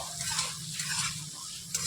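Onions salted and stirred in a pan give a dense, close hiss of frying, with a soft scrape of the spoon near the end.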